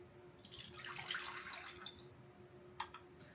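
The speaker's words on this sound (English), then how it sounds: "That's a nice warm shower." Warm shower water runs in a steady, soft hiss, with a couple of sharper splashes near the end.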